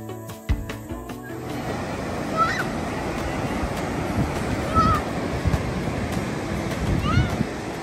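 Sea waves wash steadily on a beach, a broad continuous surf roar with wind, punctuated by a few faint honking or squawking calls in the distance; a brief knock sounds near the start.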